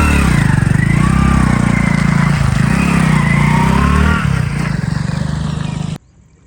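A motorcycle engine roars loudly close by, holding a high, wavering rev for several seconds, then easing down in pitch and abruptly cutting out.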